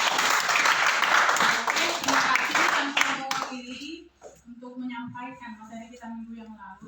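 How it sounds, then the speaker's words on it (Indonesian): Classmates clapping together in a lesson, a dense burst of applause for about three seconds that stops abruptly, followed by a voice speaking. "Oke, tepuk tangan teman-teman."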